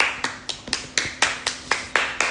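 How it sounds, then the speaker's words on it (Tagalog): Sharp hand claps repeat in a steady rhythm, about ten close, crisp claps at a moderate pace with no voices over them. "Palakpakan!"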